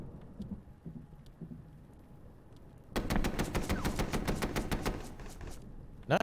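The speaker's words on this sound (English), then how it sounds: "heavy machine gun from the Receiving" A heavy machine gun in a WW2 strategy game opens up after a quiet, faintly rumbling lead-in, firing a fast, loud burst of evenly spaced shots that runs for about three seconds and then dies away.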